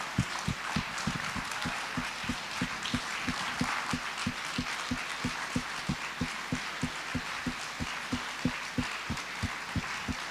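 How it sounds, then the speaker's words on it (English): A standing convention audience at the EDP Convention in Florence applauds Sviatlana Tsihanouskaya, a sustained crowd ovation with a pronounced steady rhythmic beat of synchronized clapping running under it throughout. "I hope you can hear the applause."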